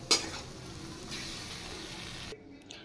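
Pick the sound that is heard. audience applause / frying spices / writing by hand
frying spices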